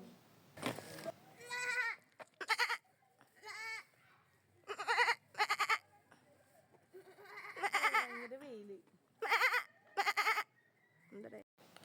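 A person imitates a goat's bleat with a series of quavering, wavering calls at a zoo safari park in Ibra, Oman, trying to make a goat turn. Short bursts repeat close by, with pauses between them.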